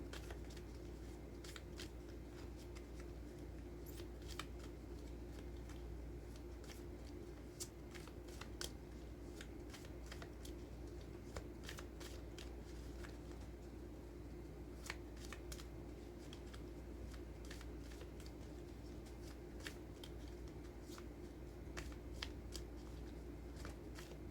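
Tarot or oracle cards shuffled for a reading give a steady, soft riffling with crisp snaps and taps scattered throughout, close by and continuous, with no one talking.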